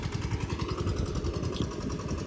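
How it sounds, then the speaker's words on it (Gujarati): A tractor engine chugs in a farmyard as it comes back, a rapid, steady low thumping that stays close and loud for the whole short stretch. "ટ્રેક્ટર પાછું આવે છે આ બધું."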